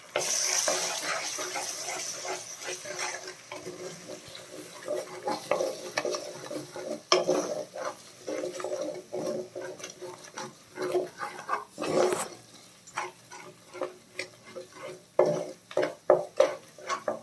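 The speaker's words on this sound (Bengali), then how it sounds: "হাই ফ্লেমে করে ডিমটাকে ভেজে নেবে" An egg fries and is stirred in a pan over a high flame, with salt and black pepper added and chicken going in for egg chicken chow mein. The sizzle runs steadily under irregular scrapes and clinks of a utensil against the pan.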